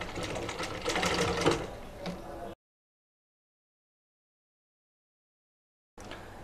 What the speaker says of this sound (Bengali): পট্টির কাপড়ের উপর একটা সেলাই করব।